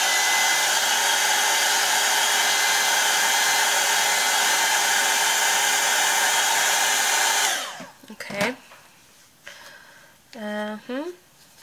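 A hair dryer blows loud and steady while drying a watercolor Christmas card painting, then cuts off; afterward come faint handling noises and brief talk.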